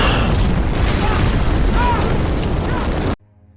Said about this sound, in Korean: 무언가 폭발해버립니다.